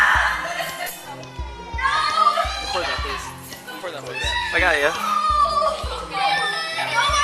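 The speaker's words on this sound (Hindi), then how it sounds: "कितना जोर जोर से चिल्ला रहा है अपनी माँ को, वो भी पब्लिक प्लेस में।" Someone shouts loudly at his mother in a busy public place, his raised voice cutting through crowd chatter and other voices around him.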